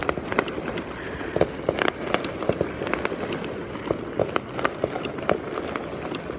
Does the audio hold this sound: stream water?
no